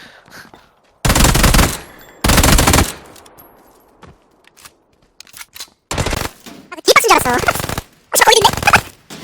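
Gunfire in the Battlegrounds video game, several loud separate bursts of rapid automatic fire between quieter gaps, with players talking in between.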